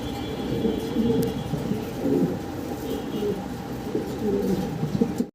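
Several pigeons coo in a soft, continuous rolling murmur close by, with faint background noise and brief clicks near the end.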